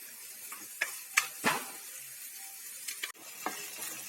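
Onion, ginger, garlic and green chilli fry in a pan for masala poori, the oil sizzling softly while a spoon scrapes and stirs a few times, close and without voices.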